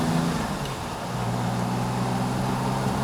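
A black 1969 Jaguar E-Type drives down a road, its engine a steady low hum with some road and wind noise heard from inside the car, pulling evenly without any talk.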